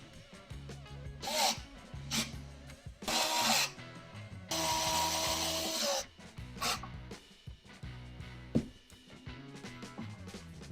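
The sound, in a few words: driving machine screws to fix plate to 3D printed guitar core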